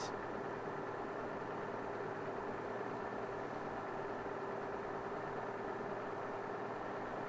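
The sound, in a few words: car engine idling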